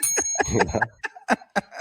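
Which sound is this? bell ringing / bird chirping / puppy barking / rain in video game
bell ringing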